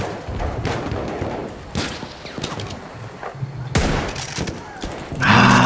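Bursts of rapid gunfire and single shots crackle with game-like effects in the video game Battlefield 1, mixed with brief speech and a short electronic tone near the end.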